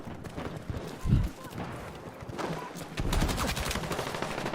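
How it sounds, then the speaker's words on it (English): A grenade goes off in a Battlefield 6 firefight, a loud close thump around the first second, followed by bursts of gunfire and a dense crackle of shots toward the end, with some talk mixed in. "Oh no, that's a nade."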